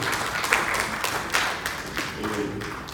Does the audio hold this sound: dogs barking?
no